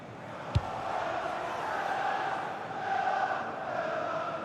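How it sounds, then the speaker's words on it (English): A stadium crowd roars during an Aston Villa versus Liverpool Premier League match in EA Sports FC 26, a sustained wash of chanting and cheering that rises and falls, with a sharp thump near the start. "Well, just listen to this crowd."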